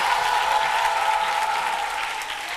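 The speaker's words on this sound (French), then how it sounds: "On se lève pour l'applaudir." At the Wozo Vacances 2015 launch, a standing audience gives a guest sustained applause: dense, even clapping from many hands, loud and continuous, easing slightly toward the end.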